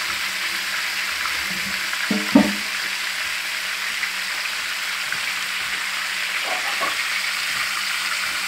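Bone-in pork shoulder, fat side first, sizzles steadily in a pot of hot oil. A constant broadband frying hiss runs throughout, broken by a few soft thumps and clatters of handling.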